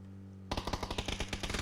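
Rapid automatic gunfire from the video game PUBG breaks out suddenly after a quiet hum, with about a dozen close, evenly spaced shots in quick succession.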